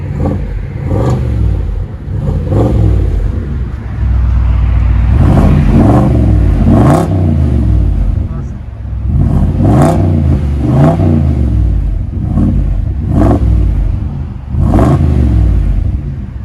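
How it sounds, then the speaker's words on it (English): A 2020 Ford F-250 with the 6.2L engine and muffler-delete exhaust with a 6-inch roll tip revs up loudly again and again, each rev climbing and falling back in a repeating pattern, close by. "There's the muffler delete. And there's the 6-inch roll tip. Let you guys hear it in a second."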